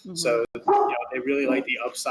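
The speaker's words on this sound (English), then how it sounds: "That's my dog just barking in the background." A dog barks in the background of a home setting, sharp barks mixed in with someone talking nearby, the voices dominating and the barking coming through between and under the speech.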